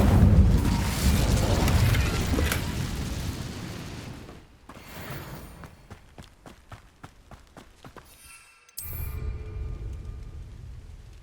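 The Incendio fire spell cast in the video game Hogwarts Legacy: a rumbling fiery burst, followed by a quick run of soft rhythmic thuds and a short sharp flare near the end.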